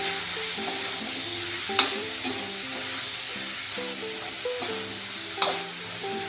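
Ash gourd pieces with spices are stirred and sautéed in a pan, giving a soft sizzle and spatula scrapes under a faint background music line, with a few louder clinks of the utensil against the pan.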